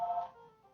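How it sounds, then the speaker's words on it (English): A phone ringing during a live cooking show, a short electronic tone that fades quickly, heard close and alone. "And that is the phone."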